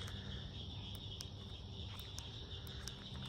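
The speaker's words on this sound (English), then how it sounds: "you can hear the frogs in the background." A steady chorus of frogs calling at night trills continuously in the background, with faint, sharp ticks scattered through; no talking.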